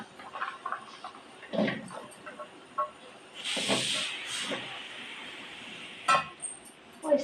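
Oil sizzling in a frying pan, a soft steady hiss with sharper spits and bursts rising and falling, accompanied by faint clinks and voices talking in the background.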